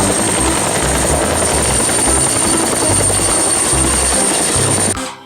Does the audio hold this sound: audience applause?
no